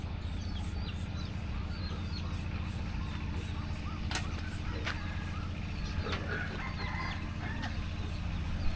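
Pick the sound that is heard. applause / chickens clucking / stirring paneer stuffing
chickens clucking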